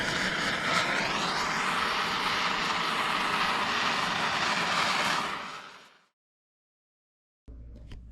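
A propane torch from the hardware store roaring loud and close while charring backyard wooden posts, then cutting off abruptly to silence before a short burst of noise returns.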